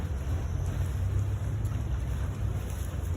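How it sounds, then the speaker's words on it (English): A vaporetto water bus cruising the Grand Canal in Venice, heard as a steady low engine rumble and water wash with some wind buffeting, continuous and fairly close, with no voices. "Vaporetto, cruising down the Grand Canal"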